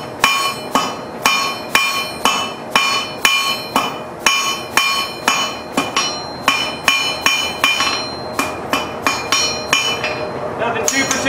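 Steel S-hook being tapered with a hammer on an anvil, a loud, steady run of about two dozen ringing metallic strikes at a quick even rhythm, speeding into tighter blows near the end.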